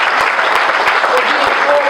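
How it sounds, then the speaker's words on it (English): Brief burst of dense audience clapping at a disability café event marking the ADA anniversary, loud and continuous with a few sharper claps standing out. "let's give a round of applause to the state of Connecticut"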